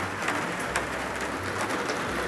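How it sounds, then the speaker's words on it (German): Steady rain falls on a garden in the late evening, a dense close hiss of drops hitting surfaces with no break throughout. "Oh, der Krach kommt vom Regen."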